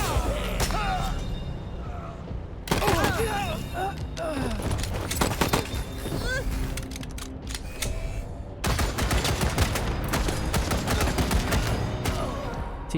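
Rapid bursts of gunfire and heavy automatic weapon fire in the video game Wasteland 3, including friendly fire, crackle in dense volleys with short gaps, sharp impacts and thuds, sounding loud and continuous across the fight.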